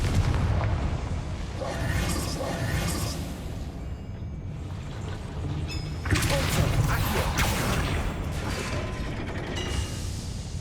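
A Bombarda blasting spell goes off in Hogwarts Legacy, with a loud, rumbling explosion that surges again partway through over a constant bed of grinding, mechanical game sound.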